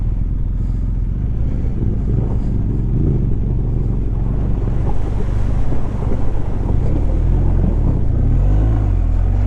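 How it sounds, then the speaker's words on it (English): A motorcycle crosses a creek through water: a dense rush of wind and splashing water covers a low engine note for the whole stretch. "My very first creek crossing."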